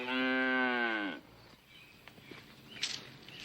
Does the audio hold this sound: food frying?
no